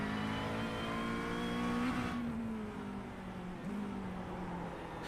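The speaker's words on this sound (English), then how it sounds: "he made another downshift on the apex of the corner while still under braking" An onboard race car engine at Belle Isle in sim racing drones loudly and steadily, then pitch drops with downshifts under braking into a corner as the rear steps out, with no voices.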